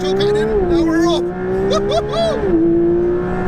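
A Porsche 911 GT3 RS engine revs hard as the car pulls away under traction control, a loud, tonal, rising howl with a brief dip before the pitch climbs again, heard from inside with voices talking over it.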